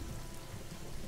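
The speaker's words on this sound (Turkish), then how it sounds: "Mevsim için normal olan bu yağmurlar, düğün sahipleri kadar bizi de zorluyor." Steady equatorial rain falls in Zanzibar, a continuous soft hiss of drops across the whole clip, fairly faint and unbroken, with no voices.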